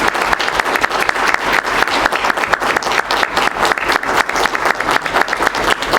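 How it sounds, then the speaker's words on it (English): A board meeting audience applauds Mason Knight, a loud room of distinct, fairly sparse individual claps in an uneven rhythm, close and unaccompanied by talk. "Please join the board and me in applauding Mason Knight."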